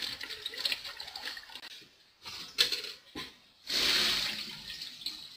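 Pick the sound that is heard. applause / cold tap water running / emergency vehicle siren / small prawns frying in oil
cold tap water running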